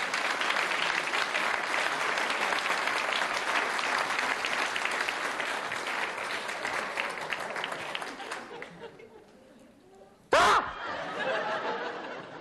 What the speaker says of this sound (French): Il s'agit de monsieur Persil Haché, qu'on applaudit bien fort.